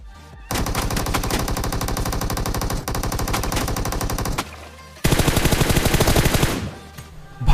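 Automatic gunfire sprays in PUBG Mobile in long, rapid bursts, loud and dense, split by a brief pause before another sustained volley that trails off at the end.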